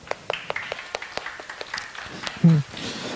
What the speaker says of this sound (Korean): 한 번만 더 박수 쳐주자.